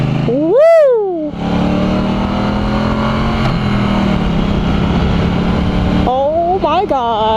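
A 2016 Triumph Bonneville T120 motorcycle engine runs steadily while riding, loud and close with rushing wind noise, as a person whoops excitedly at the start and again near the end.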